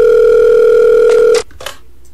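A telephone tone in the video game Five Nights at Wario's 3 holds steady and loud, then cuts off abruptly, followed by a few faint clicks.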